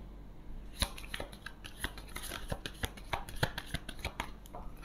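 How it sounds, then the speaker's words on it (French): Tarot cards shuffled by hand for a nine-card reading, a run of quick papery riffles and soft slaps, close and moderately quiet, with no talk. "Faire un tirage en 9 cartes."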